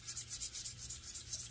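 Hand sanding guitar wood with 400 grit sandpaper, working with the grain: steady rhythmic rubbing strokes, soft and close, repeating evenly with no talk.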